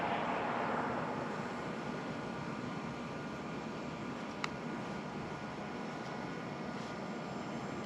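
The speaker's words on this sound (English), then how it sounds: "drone remote doing an orbit right now" A camera drone circles overhead in an orbit beside a van at an off-grid camp, its steady whirring drone blending into a constant broadband wash that stays even and moderately loud throughout, with one brief sharp tick near the middle.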